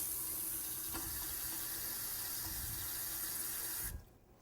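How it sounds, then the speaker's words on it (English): Water runs steadily from a tap into a jar of orange peel and herbs steeping in vodka for orange bitters, a continuous close splashing pour that stops abruptly near the end. "I'm just going to put a little bit of water to finish the top here"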